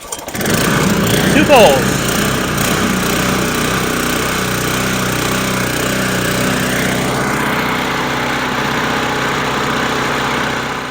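A Toro GM1000 reel mower engine starts and settles into a steady running drone, with a brief burst early on; someone talks over the engine noise throughout.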